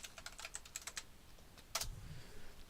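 Quiet, quick keystrokes on a computer keyboard tap in an irregular burst, then pause before a final few presses, recorded close in a silent room.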